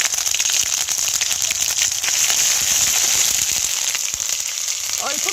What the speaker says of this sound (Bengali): তেলটা গরম হয়ে গিয়েছে। এবার অল্প গোটা জিরে দিয়ে দেব। হাফটা রসুন বাটা দিয়ে দেব।